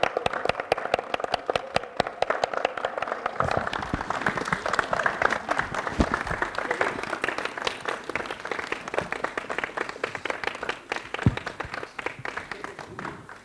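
An audience claps for a panelist at a DevOps leadership panel discussion, dense sustained applause filling the room with a few louder individual claps.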